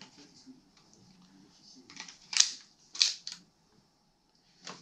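Tokyo Marui USP airsoft pistol firing near the end of its magazine: a few sharp, close snapping shots spaced irregularly with small mechanical clicks between, heard alone against a quiet background.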